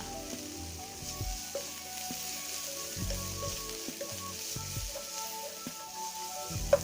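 Crushed garlic and ginger sizzle in hot oil, a steady close crackling hiss under faint low background sounds and occasional light knocks.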